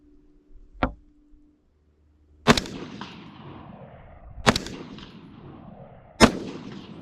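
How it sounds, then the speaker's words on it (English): M16A2 rifle fires three sharp, loud rounds spaced about two seconds apart, each with a long echoing decay, after a faint metallic click and a brief snap earlier. "So we'll fire a few more rounds just to make sure."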